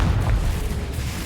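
A Confringo blasting spell detonates in Hogwarts Legacy, a single short, deep boom that fills the low end and quickly fades into a rumbling tail.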